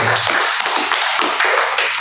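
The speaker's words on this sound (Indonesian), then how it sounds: "Berikan tepuk tangan kita untuk Tuhan" A church congregation applauding during worship, a sustained burst of many hands clapping with sharp individual taps standing out over the steady roar.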